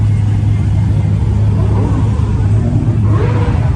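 A lowered, tinted Dodge SRT Hellcat with a wide-body kit rumbles loudly nearby, a deep steady engine drone with a slight rev rising toward the end.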